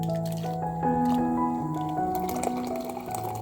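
Hot water is poured onto filter coffee and espresso grounds, making a continuous trickling, gurgling liquid sound with shifting tones as the vessel fills, close up and without talk.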